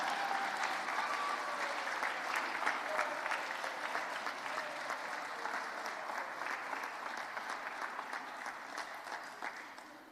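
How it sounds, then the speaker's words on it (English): A school ceremony audience applauds students: a sustained, dense round of many hands clapping at a moderate distance, steady for about ten seconds and tapering slightly at the end. "Can we give our students another round of applause?"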